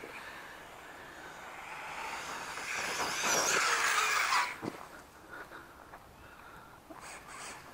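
An Arrma Kraton RC car drives with a rising, distant electric motor whine that builds for a few seconds and then cuts off sharply, leaving faint scattered knocks and outdoor background noise.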